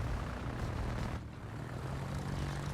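Propeller biplane engines from the World of Warships video game drone steadily throughout, a loud continuous buzzing hum with no talk over it.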